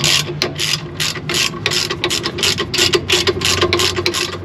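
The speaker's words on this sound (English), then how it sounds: "We're going to start by removing just the pin bolts." Ratchet clicking in quick repeated bursts while loosening the brake caliper pin bolts on a 2004 Toyota 4-Runner during a brake pad change, close and fairly loud, with a steady low hum underneath.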